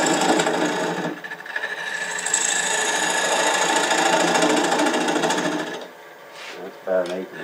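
A recess tool cuts into a spinning wood wig stand on a lathe, giving a steady loud scraping whir for several seconds before it tapers off, with brief speech near the end.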